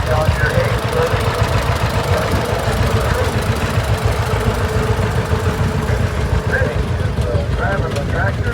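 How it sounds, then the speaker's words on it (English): A 1937 John Deere 830 tractor on steel wheels runs at a tractor parade in Boonville, Missouri, giving a steady, rhythmic low engine chug at an even idle throughout while a voice talks over it. "This is a 1937 John Deere 830."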